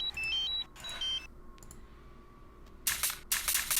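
A few short electronic beeps at differing pitches, field-recorded on an iPhone as samples, sound close and clean, followed by two loud bursts of hissy noise.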